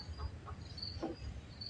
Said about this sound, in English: Got an audience of chickens today.